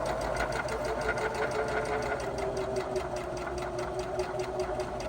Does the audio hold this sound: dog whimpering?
no